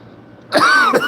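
One person coughs once in a room with the air conditioning running, a short harsh throat-clearing cough after a quiet moment, close and fairly loud.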